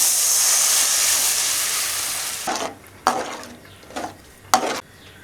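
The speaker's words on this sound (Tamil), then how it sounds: "நல்லா கொதிக்க விடலாம்." Tamarind water poured into simmering vatha kuzhambu in a pan, a loud sustained sizzling hiss that fades, followed by several short bursts of bubbling and stirring.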